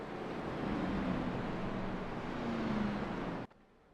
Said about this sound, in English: They're coming to 1 to green this time by, as you can hear someone rev their engine.